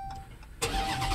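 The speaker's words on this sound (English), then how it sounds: "try turn on the engine." A 2015 Dodge Charger SRT Hellcat engine cranks and catches after key programming, a quiet starter whir followed by an abrupt loud burst into a rumbling idle.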